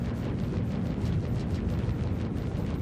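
Cannons on a Drake Corsair ship fire in the Star Citizen space game, a loud, dense stream of rapid booming blasts rolling without pause and without any talking.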